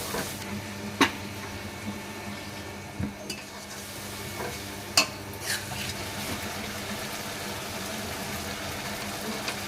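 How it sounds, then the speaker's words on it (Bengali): Spice paste with ginger and whole garlic cloves frying in a pan for mutton kasha, a steady low sizzle with a spoon scraping and tapping the pot now and then, no voices. "আর রসুনগুলো রেখেছিলাম গোটা গোটা ওগুলো দিয়ে মশলাটাকে ভালো করে কষাতে হয়"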